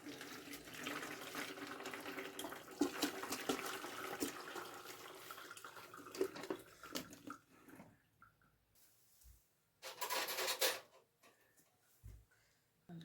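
Water poured off a boiled vegetable in a home kitchen while making sweet fritters, a soft irregular trickle and splash that fades out, then returns in a brief louder gush near the end.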